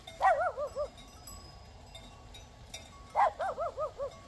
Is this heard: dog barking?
yes